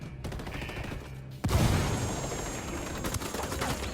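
Video game gunfire in Ghost Recon Wildlands: a loud burst of rifle shots breaks out partway through and continues as sustained firing with sharp cracks, following quieter shots before it.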